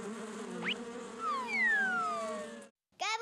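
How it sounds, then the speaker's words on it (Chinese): A cartoon bee buzzing effect from a children's educational show: a steady droning hum with rising and falling whistle-like sweeps, cutting off briefly before a short burst resumes. "蜜蜂是肚子饿了， 所以嗡嗡叫。"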